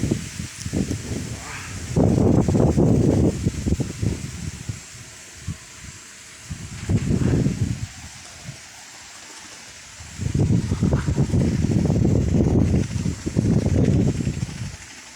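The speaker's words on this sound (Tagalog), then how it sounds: "Grabe ang hangin" Strong wind roars in loud gusts, rising and falling over several seconds with quieter lulls between, broadband and close to the ear.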